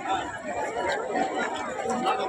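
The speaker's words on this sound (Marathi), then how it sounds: "तो हे पहा कशी गर्दी आहे" Crowd chatter from a large Datta Jayanti festival gathering at Shri Kshetra Devgad temple, many overlapping voices in a dense continuous murmur close around the listener.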